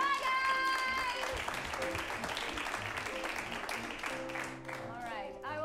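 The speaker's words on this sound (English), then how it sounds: "we're gonna give you guys a round of applause as we say goodbye to you" Audience applause and crowd noise at an improvised comedy show, sustained through the stretch beneath voices and some pitched vocal calls, fairly close and steady.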